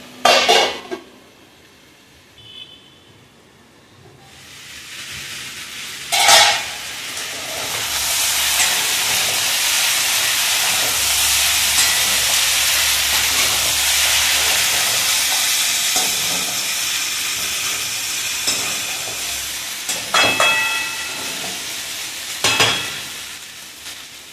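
Potato bhaji cooks in a pot, giving a long, steady steamy hiss and sizzle that swells and holds. A few sharp clanks of a spoon against the pot sound near the start and again toward the end, with no talk.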